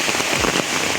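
Rain falling outdoors where ducks stand in the wet, a dense continuous patter and crackle of drops throughout the brief moment, fairly loud and close, with no voices.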